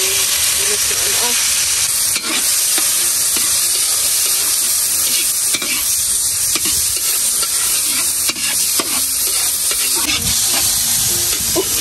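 Pork stirred in a pot over a very strong fire while cooking sopas, a loud continuous sizzle and hiss with scraping stir strokes throughout, close up.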